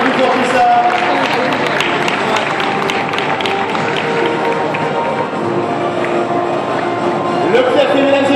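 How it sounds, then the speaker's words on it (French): A crowd at an indoor horse show claps and cheers, a dense, loud and continuous wash of applause that swells slightly near the end. "La team Carter, s'il vous plaît, applaudissez-les, encouragez-les."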